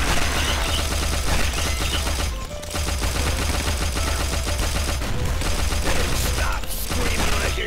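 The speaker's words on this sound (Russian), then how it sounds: "Охренительная пушка. Она, главное, вот именно на звук такая" Heavy automatic gunfire from a weapon in the video game Guns, Gore and Cannoli, a loud and nearly continuous rattling burst with mechanical clatter that breaks off briefly in the middle before firing again.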